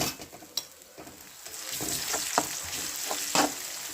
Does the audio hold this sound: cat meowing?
no